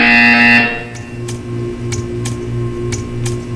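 Loud electronic buzzer from the video game Portal 2 sounds briefly at the start, followed by a steady low pulsing hum and several faint sharp ticks.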